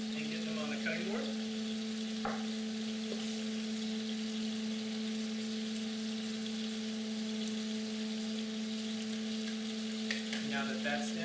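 Onions frying in a pan for burgers, a steady broadband sizzle that runs the whole time at moderate level, with a constant electrical hum beneath and a few faint clicks of utensils.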